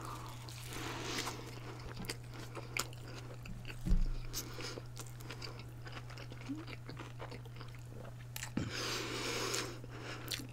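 Jack in the Box fries being chewed close to the mic, soft wet munching and occasional bites over a steady low background hum.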